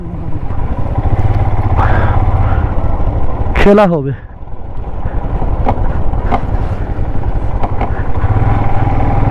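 A motorcycle engine drones steadily while riding past wheat fields in Ladakh on a Kargil to Batalik trip, loud and close, with a person talking over it.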